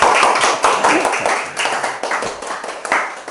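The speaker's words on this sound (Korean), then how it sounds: "다시 한번 박수 부탁드립니다" Applause from a live audience at a Korean lecture talk on love, a dense patter of hand claps that swells and dips in bursts across the whole stretch, with a faint murmur of voices underneath.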